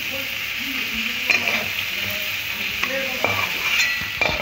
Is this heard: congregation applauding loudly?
no